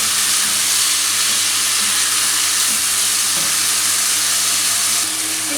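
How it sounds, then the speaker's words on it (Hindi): Soaked rice fries in hot oil in a pan, giving a loud, steady sizzling hiss that carries on unbroken from start to finish, close up and without talk. "जो चावल सोक किए हुए थे वो मैं इसमें ऐड कर दूँगी। इसको थोड़ा सा फ्राई कर लो।"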